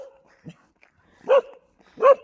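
A dog barks twice loudly and close by, with a short, softer yip before the barks and quiet gaps between them.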